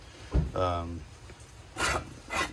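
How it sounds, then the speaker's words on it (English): A flap disc on a grinder trims metal to fit an opening during a 1985 Jeep CJ7 restoration: a brief whining spin-up, then two short, rasping grinding passes with quiet gaps between them. "I just use my flap disc and I gradually bring it down"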